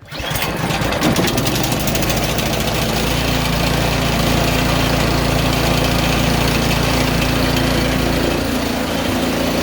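A small snow blower engine starts with a rough sputter and settles into a loud, steady, chugging run close by, humming continuously with no other sounds.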